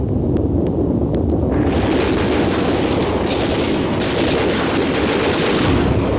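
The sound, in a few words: artillery bombardment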